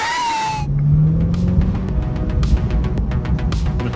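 C8 Corvette on a wet road, its engine roaring as the tires lose grip, with a brief high screech at the start, then a rumbling surge and sharp clicking noises, all close.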